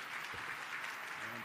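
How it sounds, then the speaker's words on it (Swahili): A crowd claps at a harambee fundraiser for a diaconal centre in Bagamoyo, giving an even, sustained wash of hand clapping with no pauses, fairly close and moderately loud. "Naona makofi hayatoshi."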